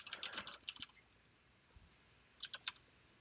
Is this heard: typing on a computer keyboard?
yes